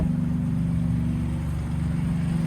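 A nearby BMW idles with a steady, low, throbbing engine drone that holds constant for a few seconds at close range.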